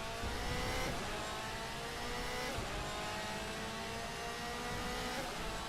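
Race car engine in the DTM Experience driving simulator, a steady loud drone with shifting pitch through gear changes, continuous and close throughout.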